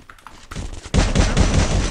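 Gunfire in a competitive video game match, a few sharp isolated shots followed by a loud, rapid burst of repeated shots, close and punchy.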